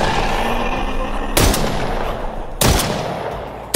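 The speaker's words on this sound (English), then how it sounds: "Gotta be real selective with the shots." Gunfire in a prison break survival video game rings out in two sharp, loud shots about a second apart, set over a steady bed of game background noise.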